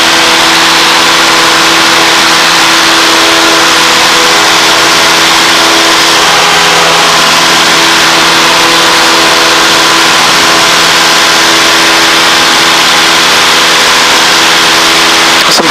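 A 180 horsepower engine in a light aircraft climbing through choppy air, a loud, constant droning hum with steady tone filling the cabin and no talk over it.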